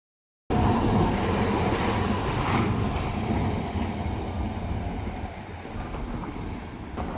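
A tram rumbles along continuously with rattling wheel noise on the rails, loud and close, the sound easing slightly toward the end.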